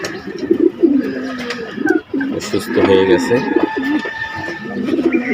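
Pigeons coo steadily nearby in a loft, one bird recovering from a cold, their soft repeated coos running throughout while someone talks over them.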